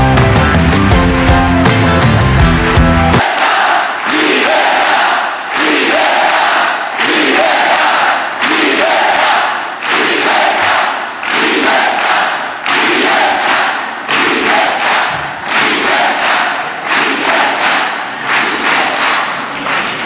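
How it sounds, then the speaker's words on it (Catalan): A crowd at a political election rally in La Ràpita applauds candidate Irene Fornós from Tortosa, rhythmic unison clapping in steady loud bursts after a brief stretch of music, cheering faintly mixed in. "vos demano un fort aplaudiment per a la companya de Tortosa, Irene Fornós, la nostra candidata ebrenca"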